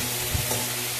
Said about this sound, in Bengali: মাটন রান্না হচ্ছে, মাটন।